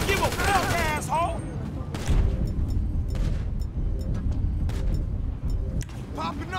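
Sharp bursts of rapid gunfire in GTA 5, close and loud, repeating through the clip while voices talk over the shots.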